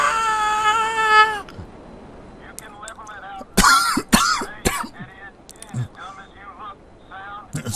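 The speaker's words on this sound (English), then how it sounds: "Sorry about the cough." Several harsh, close coughs and throat-clearing bursts break out in the middle, surrounded by speech and a brief tonal sound at the start.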